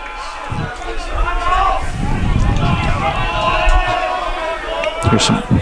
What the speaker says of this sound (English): Hear the crowd out there.